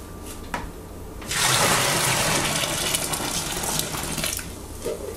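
Boiled water gushes loudly into a home-brew keg for a few seconds, a steady heavy pour that starts abruptly and tapers off.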